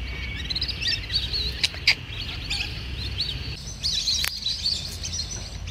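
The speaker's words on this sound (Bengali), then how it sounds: "পাখির কিচিরমিচির শোনা যায়, মানে অতিথি পাখির ডাক শোনা যায়।" Migratory birds chirping near a lake on a university campus in the morning, a steady mix of high twittering calls from several birds at a moderate distance over a low background rumble.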